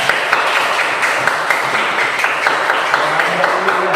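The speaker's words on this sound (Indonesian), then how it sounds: "Tepuk tangan untuk kita semua." A school class applauds together in steady, dense clapping that stays fairly loud and even for a few seconds, with no talk over it.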